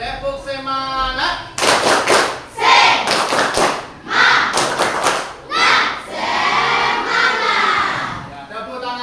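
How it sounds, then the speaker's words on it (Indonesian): Students in a classroom do a second round of rhythmic spirit clapping, crisp grouped hand claps in a set pattern interleaved with loud chanted voices, after a brief spoken cue from the teacher. "Sekali lagi, tepuk semangat."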